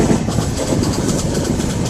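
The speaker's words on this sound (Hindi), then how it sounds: "अपनी गाड़ी बड़ी स्पीड से जा रही है, तो आप ट्रैक साउंड का आनंद लें।" A passenger train hauled by a WAP7 electric locomotive runs at speed, giving a loud, steady rumble of wheels on track with a rhythmic clickety-clack heard from inside the coach, no talking.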